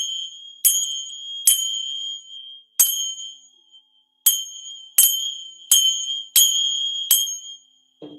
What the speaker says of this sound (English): They play different crystal singing bowl sound baths.